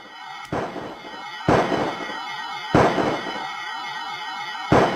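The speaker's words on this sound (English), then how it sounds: "I'm trying to shoot his antenna off." Shots and explosions in the Amiga game It Came from the Desert: four loud, sharp booming bursts at irregular intervals over a buzzing, warbling electronic game tone.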